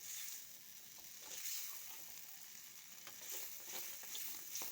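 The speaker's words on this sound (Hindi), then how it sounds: "और अच्छे से हम इसको भून लेते हैं।" Eggplant roasts in ghee in a pan, giving a soft, steady frying sizzle with light crackles and occasional stirring scrapes, close but quiet, with no speech.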